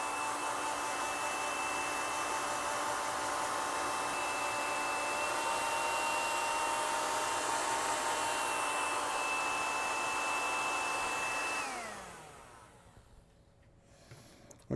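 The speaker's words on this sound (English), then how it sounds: "Let's blow dry it." A hair dryer blows on a watercolor painting with a steady, loud whooshing whine for about twelve seconds, then winds down and fades to near quiet as it is switched off.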